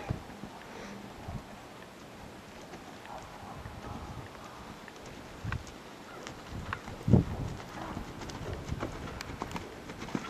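Horse hooves during a riding session, a steady muffled clip-clop rhythm under constant wind noise on the microphone, at moderate distance.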